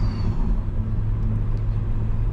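A car fitted with a custom exhaust cruises slowly through city streets, a low steady engine rumble and road drone heard from inside the cabin, even and subdued.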